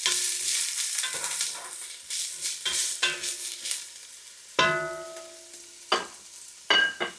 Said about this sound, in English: We're just gonna start sweating our onions a little bit.